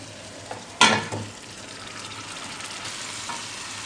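Chicken pieces hit a hot pan for a green chicken curry with a sudden loud sizzle that quickly settles into a steady, softer frying hiss.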